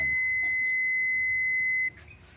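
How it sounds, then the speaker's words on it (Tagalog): A single continuous electronic beep from a multimeter's continuity buzzer testing a microwave fuse, loud and steady, cutting off abruptly near the end. "set nyo yung tester nyo, continuity, buzzer yan."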